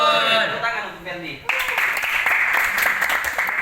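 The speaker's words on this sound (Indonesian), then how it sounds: "Tepuk tangan untuk Fendi." Clapping breaks out in a classroom during a religious-ethics lesson, starting abruptly after a teacher's voice and continuing as a steady, fairly loud patter of many hands to the end.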